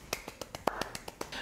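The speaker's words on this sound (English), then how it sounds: "I think a golf clap is in order." A soft golf clap sound effect: about ten light, quiet claps in quick, even succession, close and isolated with no other sound.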